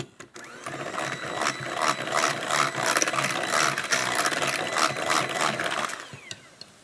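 An electric mixer whirs steadily while folding whipped egg whites into a corn starch cake batter, its motor pulsing in a rapid rhythm up close for several seconds before stopping.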